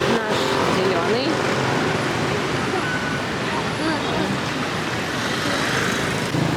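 Dense street traffic in Hanoi, a steady wash of car and motorbike engines with tire noise close by, continuous and fairly loud, with someone talking over it.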